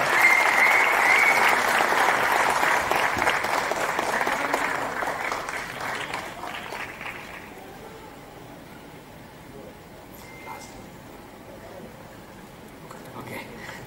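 A crowd applauds at a Tamil film event for the time-loop film Jango: thick clapping fills the first seven seconds, then thins to scattered claps and room murmur.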